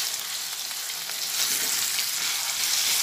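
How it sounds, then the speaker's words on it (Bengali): Potato pieces fry in hot oil with turmeric powder and salt, a steady loud sizzle with brief stirring scrapes, close by and with no talking. "এরপরে আলুটা একটু ভালো করে ভেজে নেব"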